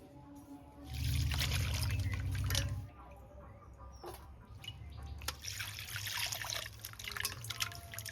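Cut parshe fish being rinsed in a bowl of water for the last wash, with a burst of pouring and sloshing early on, then softer dripping, trickling and handling of wet fish.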